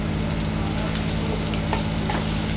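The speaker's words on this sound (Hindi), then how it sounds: "इसे हम ब्राउन होने तक भून लेंगे हाई फ्लेम पर।" Grated ginger and garlic sizzling in hot refined oil over a high flame, a loud, dense, unbroken fry that stays even throughout.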